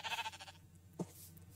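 A sheep in the video game Minecraft gives a single short bleat after a brief burst of game sound, clear and close with no talking.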